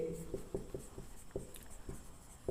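Pen or chalk writing during a Hindi-language maths lesson on relations and functions, heard as a series of short, regular scratchy strokes at close range, with no talking over them.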